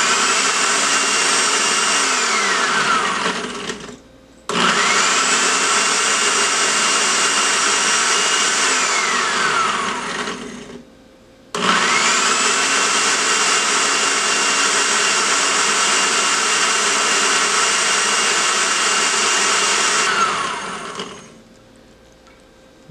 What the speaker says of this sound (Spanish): Aquí yo apago y prendo la licuadora para que vaya dando vuelta